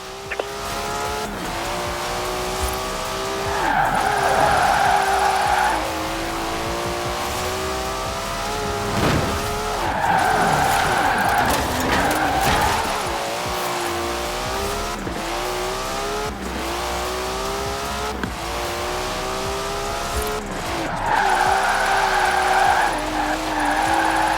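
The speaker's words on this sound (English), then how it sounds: "clouds of smoke from tyres starting to burn" Tyres skid and squeal continuously as a car in Forza Horizon 4 burns rubber, loud engine revving rising and falling under long wavering screeches, with no talking.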